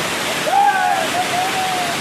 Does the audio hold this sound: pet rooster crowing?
no